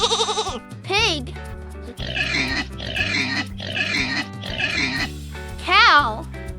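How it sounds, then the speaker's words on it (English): A pig grunts and oinks in a run of four or five quick snorting bursts, close and clear over a light musical backing, bracketed by short whistling sound effects. "Pig."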